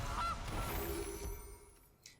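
A Gilded Goose card in the Magic Arena game lets out a synthesized goose honk, one short nasal call fading quickly against a quiet game backdrop.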